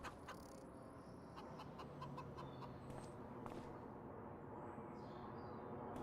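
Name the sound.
chickens clucking in Farming Simulator 25 video game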